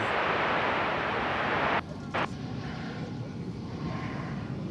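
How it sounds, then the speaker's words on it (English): An Airbus A321 airliner at DFW Airport produces a broad, steady roar of jet engine and rushing air that fills the clip, briefly cut by a short gap before the rumble continues at a slightly lower level. "Like 2971 from Los Angeles, an Airbus A321."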